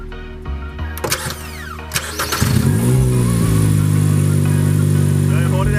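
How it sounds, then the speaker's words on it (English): A car engine cranks and fires during a Seafoam treatment after a few clicks, then settles into a loud, steady run with rising revs and a voice heard early on. "All right, start the car."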